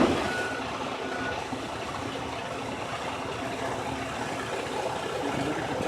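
A truck backs up during an alley dock in Texas, its reverse alarm beeping over a steady, loud engine rumble and broadband road noise.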